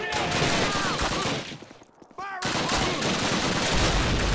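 Heavy gunfire in a Call of Duty World War II battle, with dense rapid automatic bursts close and loud, a brief lull in the middle, then the shooting resumes, with ricochet-like whines over it.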